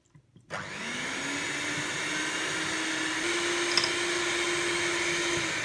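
An electric mixer beats buttercream for a vanilla Yule log while hot milk is added bit by bit: a few faint clicks, then a loud, steady motor whir starts and runs on evenly, close up.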